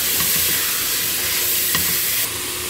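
Onion and garlic sizzle steadily in a hot pan as they sauté, a continuous close frying hiss with a faint stir partway through, no voices.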